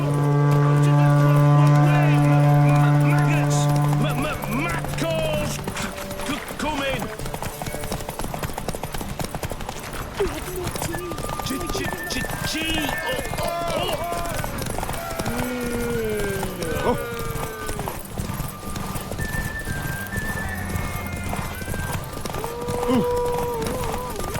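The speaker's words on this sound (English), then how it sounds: "Come on, let's set the wager and get racing. Mount up." Horse hooves clip-clop at a gallop in The Witcher 3 during a horse race, a rapid steady rhythm running throughout, with a foghorn-like tone at the start and characters speaking over it.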